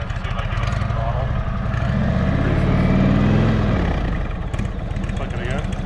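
A motorcycle engine idles and is revved with the throttle, the low mechanical drone swelling in the middle and settling back, close by, with someone talking over it.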